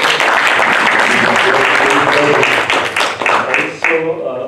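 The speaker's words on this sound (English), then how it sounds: "I think we have a round of applause for all the speakers." At an academic workshop on Indian state elections, a crowd gives loud, sustained applause for the speakers. The clapping thins and breaks up toward the end, with voices mixed in.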